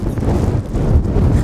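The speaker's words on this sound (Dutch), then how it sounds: "Het regent opeens echt keihard." Heavy rain and gusty wind on an outdoor street, a dense continuous low rumble buffeting the microphone, loud and steady for a brief moment with no voices.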